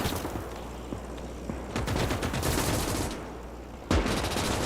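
Machine gun fire crackles in the Call to Arms - Gates of Hell: Ostfront WWII battle, with dense overlapping bursts and a sharp nearer shot near the end, heard under wider battlefield noise.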